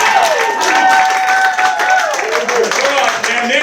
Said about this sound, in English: Everyone in the locker room starts clapping and cheering.